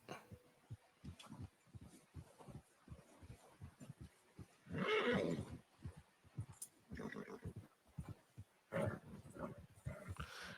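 A horse in a video game snorts and whinnies in cold weather, with several short faint bursts and a louder whinny midway, over a rhythmic background of hoof or footstep sounds.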